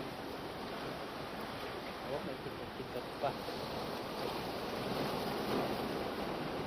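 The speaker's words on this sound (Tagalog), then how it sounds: "Pero lakas ang alon, lakas ang hangin." Strong ocean waves and gusting wind during a storm at sea while fishing make a continuous rough roar with buffeting bursts, and someone speaks briefly over it.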